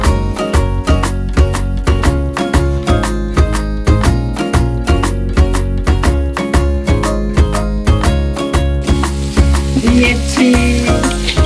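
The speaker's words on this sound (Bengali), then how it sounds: "পেঁয়াজ কাঁচামরিচ দিয়ে আমি এখন লাড়তেছিলাম, লেড়ে এখন এটা ভাজা ভাজা হয়ে গেছে" Flat beans with onion and green chili are fried and stirred in a pan: steady sizzling with regular, rhythmic scraping strokes of the spoon, close and loud throughout.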